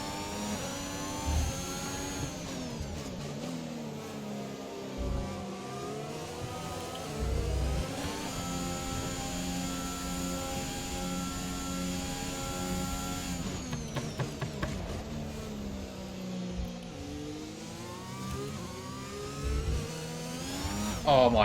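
Formula 1 race car engine in the F1 2021 racing game, a sustained mid-pitched whine that rises and falls through gear changes and revs, steady and close throughout with no talking.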